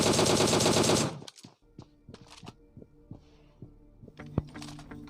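A DP-28 light machine gun fires in PUBG Mobile Lite as a loud, dense burst, followed by scattered sharp thuds and clicks of game effects.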